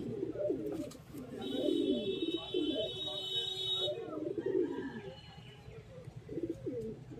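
Lalshira pigeons in a loft at Sangrampur coo over and over, a run of soft, throaty, rolling calls from several birds close by, with a thin steady electronic tone briefly above them.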